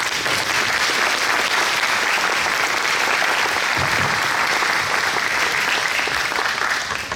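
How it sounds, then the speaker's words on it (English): Sustained applause from an audience at a talk on the American aerospace engineer Wernher von Braun, a dense steady clapping that fills the whole stretch without any voices on top. "Give an applause."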